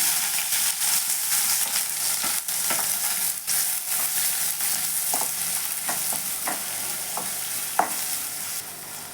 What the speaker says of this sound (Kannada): ಒಂದು ಸ್ಪೂನ್ ಸಾಸಿವೆ ಹಾಕೊತಿದ್ದೀನಿ ಈರುಳ್ಳಿ ಹಾಕೊತ ಇದ್ದೀನಿ